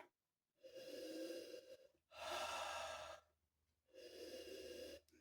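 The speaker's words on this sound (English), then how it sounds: "let's have another sniff here" Someone sniffing gin from a glass, three long, close, quiet inhalations through the nose separated by short pauses.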